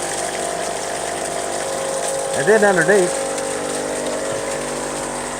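A water pump drives a PVC trommel spray bar with its valve wide open, giving a steady hissing, rushing flow close by while someone talks over it.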